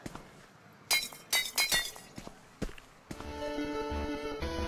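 Several Duff Beer glass bottles smash in quick succession in a retro arcade VR game, sharp crashes with scattered clinks, followed by busy game music and electronic tones.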